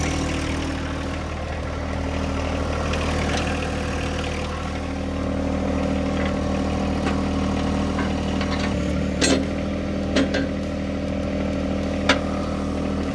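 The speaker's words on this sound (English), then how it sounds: "First off, I'm going to fire the tractor up." A backhoe tractor's engine runs at a steady, close idle: an unbroken low diesel drone, with a few sharp metallic clanks near the end.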